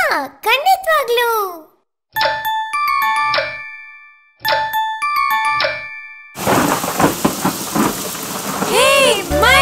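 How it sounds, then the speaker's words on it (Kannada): A cartoon thunderstorm in a children's rhyme: after chiming notes and a voice, a loud, steady downpour of rain bursts in with low rumbling, while a voice continues over it. "ಹೇ ಮಳೆ!"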